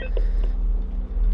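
Phone ringing in the FNAF VR Help Wanted video game, two brief electronic tones over a steady low rumble and hum, no talking.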